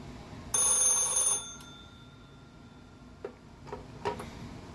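An Argentine Standard Electric B5111A telephone rings once in a short, loud metallic burst, followed by a few faint clicks and handling knocks nearby.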